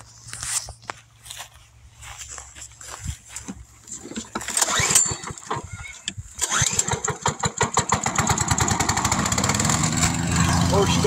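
A gas lawn mower with a 4.5 horizontal engine is pull-started, a few sputtering tries giving way to a steady, loud running engine nearby, with people talking in the background.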